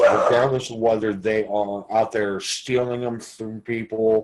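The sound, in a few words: dog barking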